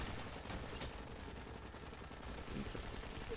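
Rapid automatic fire in The Expendables 2 while taking out snipers, a constant rattling stream of shots at moderate volume with no speech.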